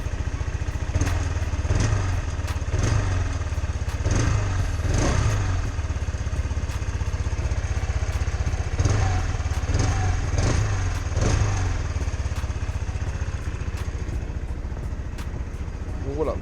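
A cold Kymco Xtown 300i scooter engine idling steadily up close, with a rhythmic low putter and periodic ticks, while a person talks over it.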